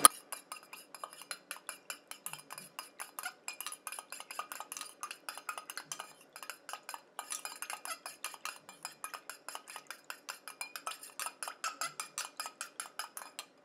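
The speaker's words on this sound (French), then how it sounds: "Je mélange." A homemade hair elixir is stirred in a container, producing a rapid, regular series of light clinks and taps from utensil against vessel, close and fairly quiet, continuing steadily with only short pauses.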